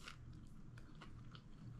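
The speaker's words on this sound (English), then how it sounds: "I don't know if you can hear the crunch." Crunchy chicken nuggets bitten and chewed close up, a series of quiet crisp crunches repeating over under two seconds with no talking.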